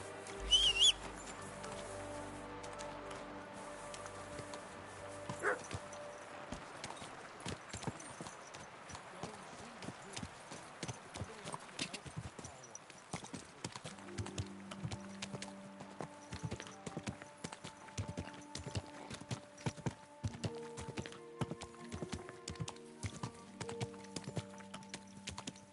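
Horse hooves clip-clop in a medieval role-playing video game, with irregular steps that come faint and sparse at first and then grow into a steadier walking rhythm. Birds chirp lightly in the background.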